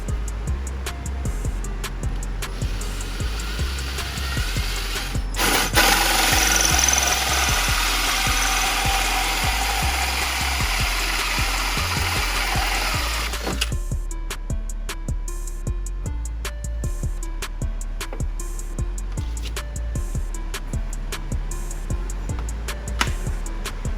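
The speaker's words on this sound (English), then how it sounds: "You get your guide, put it on drill, the highest setting you can get." Power drill boring a hole through a jet ski hull for a rear-exit exhaust, run at its highest setting: a steady loud whine for several seconds that stops, followed by intermittent clicks and handling noises.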